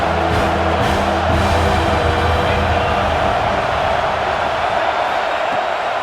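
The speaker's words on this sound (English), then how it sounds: "the Buckeye crowd alive on third down" Stadium crowd roaring steadily on a third down at a Buckeye home game in College Football 26, a loud, continuous wash of cheering with a low, droning music-like hum underneath and no pauses.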